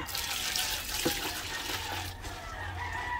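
Water is poured over breeder pellets and corn to soak them, a steady close splashing hiss with chickens faintly audible in the background.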